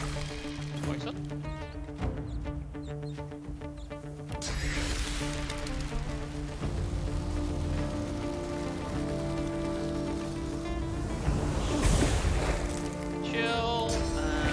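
A rain spell in the fantasy role-playing game Divinity Original Sin 2 brings a steady patter of rainfall over sustained musical tones, swelling with a brief splashy burst near the end.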